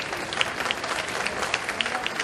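An audience applauds at a Hyderabad poetry evening, dense steady clapping from a large crowd filling the whole moment, with no speech on top.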